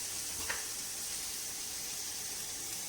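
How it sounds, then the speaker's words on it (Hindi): Chicken frying in a pan makes a faint, continuous low sizzle that holds steady throughout, with one tiny tick near the start. "ये चिकन हो गया फ्राई इसमें"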